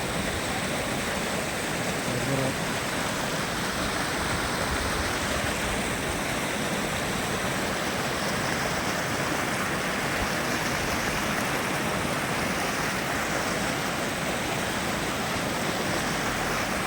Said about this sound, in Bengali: আর এই যে ঝর্ণা পানি কেটেছে